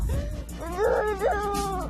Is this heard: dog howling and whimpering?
yes